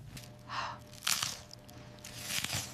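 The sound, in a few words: biting into crunchy crispy Southern fried chicken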